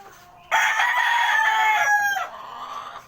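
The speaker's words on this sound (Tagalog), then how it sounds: "Kain muna tayo ng mga alaga nating mga manok." A gamecock crows loudly nearby, one long strained call that trails off, with faint clucking from other chickens around it.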